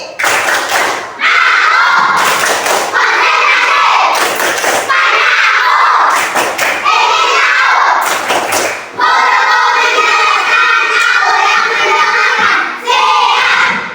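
Schoolchildren in a classroom perform a rhythmic concentration clap, crisp clusters of synchronized hand claps and thumps interleaved with loud group chanting and shouting, repeating in several cycles close by.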